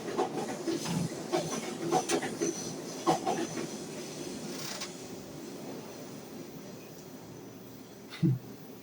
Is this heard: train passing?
yes